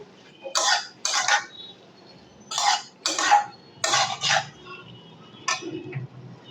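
Sajna data chachuri, a Bengali drumstick curry, stirred with sugar in a pan: a series of close scraping and clanking strokes of a spatula against metal, arriving in separate bursts with short pauses between.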